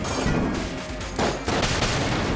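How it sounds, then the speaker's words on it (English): Explosions and gunfire in the video game Enter the Gungeon burst in dense, loud volleys, with booming blasts and rapid cracks overlapping continuously and a brief lull near the middle. "explosions"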